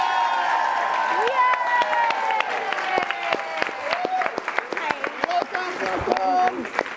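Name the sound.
audience clapping and cheering at PaleyFest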